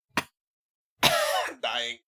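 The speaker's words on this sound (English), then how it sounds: "I just coughed up a jalapeno." A single short cough, close and fairly quiet, followed by a brief stretch of speech.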